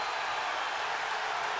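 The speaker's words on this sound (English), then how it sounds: "This Wisconsin crowd is just going crazy" Wisconsin fans roar in a packed basketball arena during a 2014 Elite Eight game against Arizona, a steady wash of cheering and crowd noise with no break, loud and continuous, with no clear talk on top.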